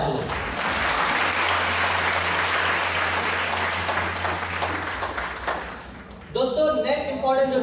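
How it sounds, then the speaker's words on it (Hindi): Seminar audience in Nepalgunj breaking into loud, dense applause that holds for several seconds and fades, then a voice speaks over the room. "अपने लिए जोरदार ताली बजाए आप लोग।"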